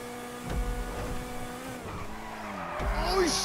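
Car tires squeal through a drift in Grand Theft Auto V, a wavering screech over a revving engine lasting a few seconds, close and fairly loud.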